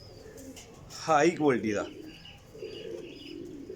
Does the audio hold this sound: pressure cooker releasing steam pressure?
no